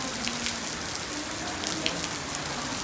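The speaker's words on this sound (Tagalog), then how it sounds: "Oh, ang lakas ng ulan, no?" Heavy rain falling hard on surfaces in Batangas, a dense, loud, continuous hiss of drops with scattered nearby splats, no speech.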